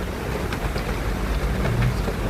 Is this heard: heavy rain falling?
yes